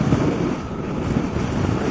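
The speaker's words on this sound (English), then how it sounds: "Pretty windy at the moment." Strong gusty wind roars and buffets the microphone along the Green Mountain Highway in Marlborough, southern Vermont, on an autumn day as a cold front moves in, a steady loud rush throughout.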